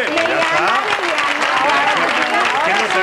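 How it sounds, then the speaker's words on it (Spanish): Studio audience applause at a televised interview, continuous loud clapping with crowd noise and voices over it. "Que le vamos a dar un aplauso a las tres."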